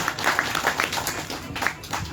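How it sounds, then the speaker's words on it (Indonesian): An audience at a discussion event on Gus Dur's thought in Rembang breaks into scattered applause, a fairly loud patter of hand claps with uneven peaks throughout. "Tepuk tangan."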